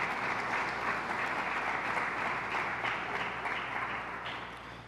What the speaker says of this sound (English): A round of applause for all the community-based organizations.